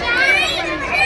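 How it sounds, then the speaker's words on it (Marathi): A busy Sunday crowd of people and excited children fills the air with loud, continuous overlapping chatter and shouts, close and dense all around. "आज संडे असल्यामुळे किती गर्दी आहे"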